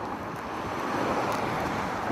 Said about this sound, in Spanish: Ya llegamos a esta playa